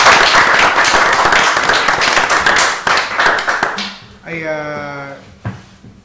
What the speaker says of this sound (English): if we can just give Mimi the round of applause.